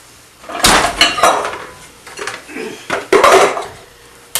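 Dishes and cutlery clatter and clink close by in a kitchen in several bursts, like bowls being pulled out and stacked while making potato pancakes, with no talking.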